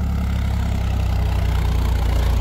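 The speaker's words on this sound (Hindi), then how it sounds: "ये देखो कैसी, मतलब कहाँ डाल रहे हैं तो भी ट्रैक्टर चल रहा है, ठीक है।" A Swaraj 744 XT 4x4 tractor engine idles steadily and loudly up close, a deep continuous diesel rumble with an even low throb and no voices over it.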